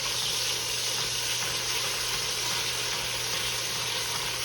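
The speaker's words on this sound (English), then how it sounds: "I got my pot heating up. And what I wanna do, y'all, I'm gonna put some garlic in here first." Garlic sizzling in a heated pot before beef is seared, a steady dense hiss of frying oil that stays even and unbroken throughout, close and moderately loud with no talk.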